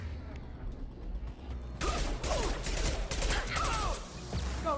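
Gunfire in the video game Mass Effect 2, with rapid bursts of shots, crashes and whizzing effects over a rumbling background, loud and close during combat.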